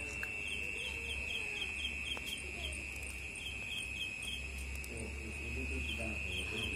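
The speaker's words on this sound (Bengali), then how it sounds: "চারিদিকে ডাকছে ঝিঝি পোকা" Crickets trill steadily at night under a bright moon, a continuous high, even chirring that runs through the whole stretch over a low hum of background noise, with faint occasional bird calls.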